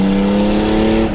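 Turbocharged, budget-built 403 bhp BMW E36 323i pulling in third gear, a loud steady engine drone with strong harmonic tone held close and continuous, winding up briefly before easing at the end.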